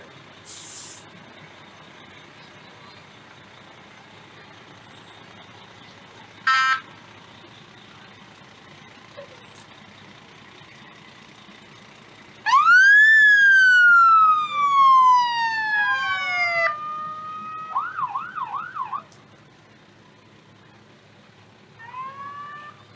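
Fire department trucks roll past in a Christmas parade, a siren winding up loud and close and sliding down in long sweeps, then briefly yelping, with a short horn blast earlier and crowd ambience underneath.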